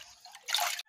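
Water dripping from a slightly open faucet at night, a single soft splash of droplets landing in a quiet setting, brief and fairly close.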